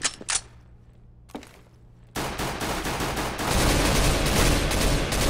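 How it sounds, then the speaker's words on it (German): Gunfire in the video game CS:GO on the Mirage map, starting with a few sharp isolated shots, then switching into loud sustained rapid automatic bursts that grow denser and heavier toward the end. "Wieso schießt du bitte auf unsere?"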